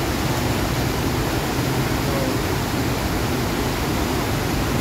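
A creek swollen by a sudden heavy downpour roars steadily and loudly, a dense unbroken rush of water close by with no voices.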